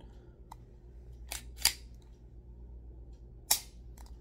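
A few sharp mechanical clicks from the trigger of a new Colt Government Model 1911 pistol, isolated and crisp against a quiet room, with two louder snaps spaced about two seconds apart.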